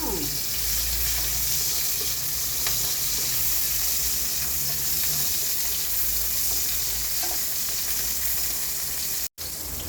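Garlic sautéing in a pan for a Pinakbet dish, a steady loud sizzle with faint scraping of stirring running throughout.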